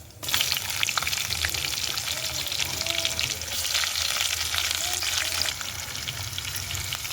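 Chopped onion and green chillies sizzling in hot oil in a pan over a stove, a steady loud crackling hiss that carries on throughout with a few stirring scrapes and no talking.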